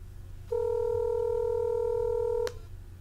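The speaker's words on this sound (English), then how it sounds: "So I'm going to dial right now, and we'll see what happens." A telephone line gives a steady, clean tone of about two seconds while someone calls the phone support line of HostMetro, a web hosting company. The tone starts and stops abruptly, with quiet line hiss before and after.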